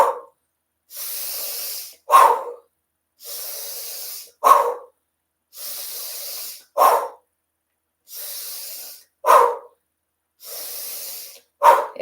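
Paced breathing exercise, slow inhales through the nose alternating with quick, sharp exhales through the mouth, about five close, clear cycles with brief silences between breaths.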